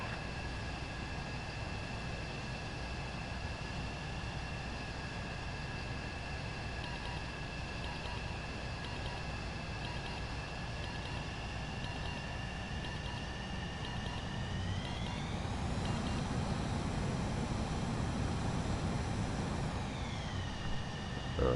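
Fighter jet coming in to land in the video game Ace Combat 7: a steady, loud engine whine with high tonal hums runs throughout, then pitches up and swells near the end as the throttle changes.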